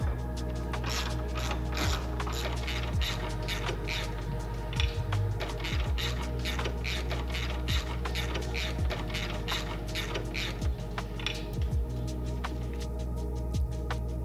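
Ratchet clicking in rapid repeated bursts while bolts are tightened on a BMW X5 bumper during a hitch install, the sharp pawl clicks close and steady over a constant low hum, with no talking.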